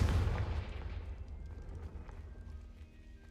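Fire spell blast in the video game Hogwarts Legacy, a loud booming burst at the start that rolls into a long rumbling, crackling decay, with no talk over it.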